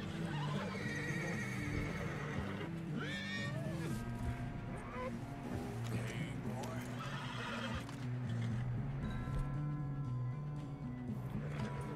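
A horse in the video game Red Dead Redemption 2 gives several loud whinnies and snorts while its hooves clop steadily along, over a game music bed with voices talking.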